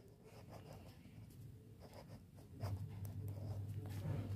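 Pen scratching across paper while an accounting entry is written out, a close, continuous run of soft strokes with a low hum rising partway through, no speech.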